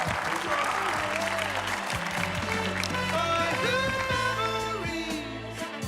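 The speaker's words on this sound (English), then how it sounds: "Big round of applause for Mike Picard" Monthly meetup audience giving a warm round of applause, steady clapping throughout, while people talk and call out over it.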